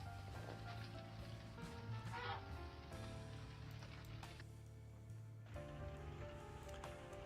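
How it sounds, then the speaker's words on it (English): Heavy rain pours down, heard from inside a chicken coop: a dense, steady hiss and patter drumming on the roof, continuous and fairly faint, with no voices. "you can hear how heavy the rain is."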